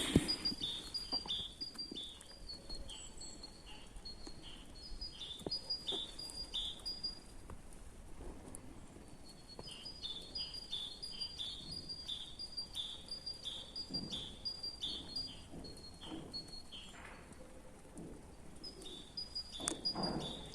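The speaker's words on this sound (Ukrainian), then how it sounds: "чуєте, як гарно співають пташечки" Steady outdoor spring chorus of small birds chirping and trilling at a country garden plot, with faint insect-like buzzing underneath; no voices.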